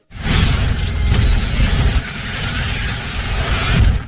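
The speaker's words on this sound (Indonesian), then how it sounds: "gedung PIM teknologi meledak dan hancur" A loud, continuous roar of crashing and shattering debris as a building explodes and collapses in the film Ant-Man, dense and rumbling throughout.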